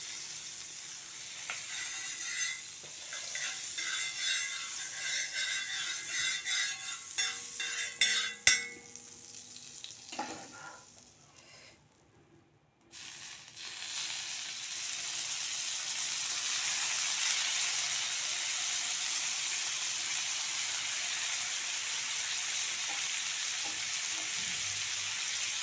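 Paneer tikka fries in butter on a dosa tawa, a steady sizzle with stirring clatter early on, a brief near-silent pause, then a continuous even hiss of frying.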